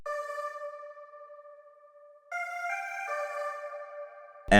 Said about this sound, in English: Next up, we have these Vox keys